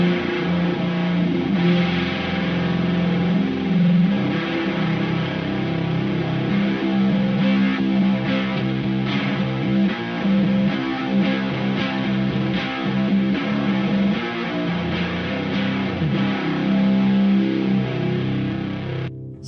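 Electric guitar played through fuzz and a muddy, resonant filter effect on a MOD Dwarf pedalboard, giving a thick, buzzing, distorted tone that sustains continuously with no talking.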